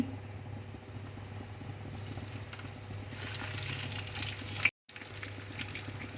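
Eggplant pieces fry in hot oil with a soft, steady bubbling sizzle that grows brighter and busier midway, then briefly cuts out.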